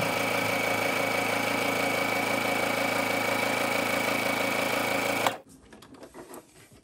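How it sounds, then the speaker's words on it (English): Electric sewing machine stitching along one side of a quilt block, a steady, loud, close whirring hum with a fast rhythmic stitch pulse that runs continuously and then cuts off abruptly near the end, leaving faint handling noise. "So I'm going to sew along one side."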